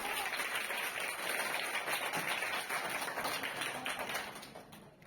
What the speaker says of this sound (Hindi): तालियों के साथ स्वागत करो इनका